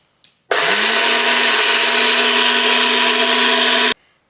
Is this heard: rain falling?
no